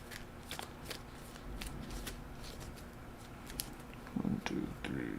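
A deck of cards is shuffled for a tabletop card game, quiet riffling with soft repeated snaps and clicks, close and low in level, with a faint voice now and then.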